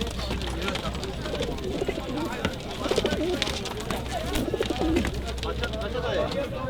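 Birds and pigeons cooing and calling over steady crowd chatter and bustle at the Adana bird market in Turkey, a busy market din with voices throughout.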